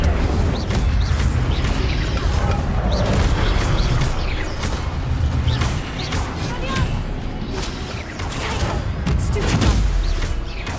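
Fiery blasts and crackling bursts from an Incendio fire spell in Hogwarts Legacy roar amid a chaotic combat mix of thuds and impacts, with brief shouted voices over the din.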